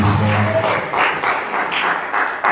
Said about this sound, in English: Give God a hand clap of praise.